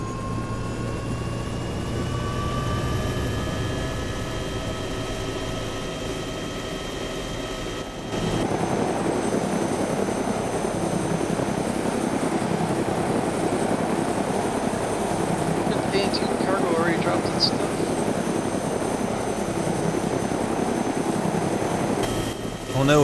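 A helicopter in Arma 2 DayZ drones steadily with a dense, continuous rotor and engine roar throughout, shifting in tone partway through.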